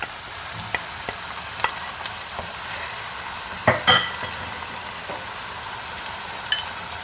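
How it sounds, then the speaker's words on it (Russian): Tomato paste sizzles steadily in a pot as it goes into a tomato-chicken soup, with a soft continuous frying hiss broken by a few light clinks of a spoon or utensil. "Сюда же добавляю я томатную пасту."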